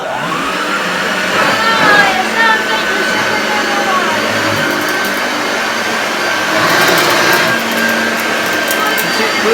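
A 1977 Hoover Junior U1012 upright vacuum cleaner runs close and loud with a steady motor whine. Its pitch shifts slightly as it is pushed across carpet, and there is faint rustling and handling noise in the background.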